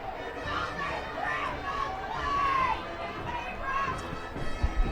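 A home football crowd groans and murmurs in protest after a chop block penalty is called against its team; the disgruntled chatter swells and fades at moderate distance, with an announcer's voice over it.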